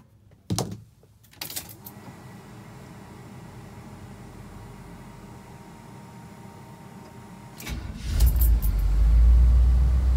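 A squarebody truck with Holley Sniper EFI and dual 3-inch Borla exhaust cranks and fires near the end. Before that come a couple of sharp clunks and a low idle hum, then the engine settles into a loud, deep, steady rumble.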